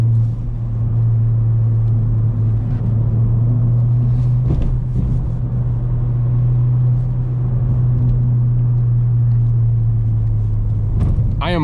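A Ford Fiesta ST's engine holds a loud, steady drone from inside the car, a constant low hum with road rumble and a few brief knocks, with no speech.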